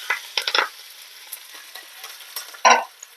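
Mustard seeds and green chili hitting hot oil for tempering, crackling and sizzling up close in scattered bursts with a sharp loud pop of spattering near the end, no speech.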